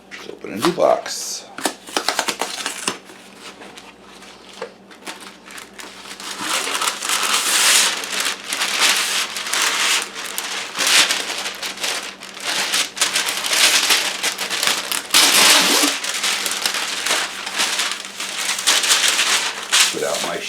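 A new box of parchment paper is opened and the sheets handled, giving dense papery crinkling and rustling that builds up to steady crackle near the mic, with a voice at the start.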